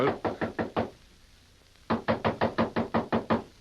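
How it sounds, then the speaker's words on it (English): Knocking on a door in a radio drama: a quick run of about five sharp raps, a pause, then a longer burst of about eight louder knocks, close and clear with no voices. "Go on, knock."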